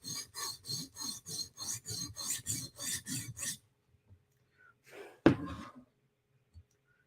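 A knife edge is drawn across a sharpening stone in about a dozen quick, even rasping strokes, close and crisp, then it stops, followed by a few soft handling knocks and one sharp thunk.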